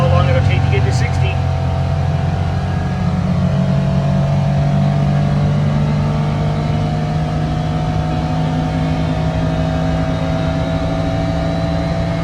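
Polaris Ranger 1500 Northstar side-by-side utility vehicle accelerating hard from a standstill on a driveway, its engine a steady loud drone rising in pitch through the gears, with people talking over it close by.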